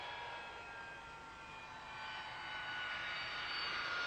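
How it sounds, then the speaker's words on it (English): Harrier jump jet taxiing up to a reconnaissance laboratory, a steady loud jet engine whine and roar that swells slightly as it nears. "Jack Pugh's task almost completed as he taxis right up to the ATRL, the Air Transportable Reconnaissance Exploitation Laboratory"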